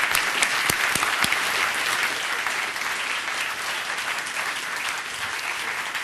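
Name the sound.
audience applause for the speakers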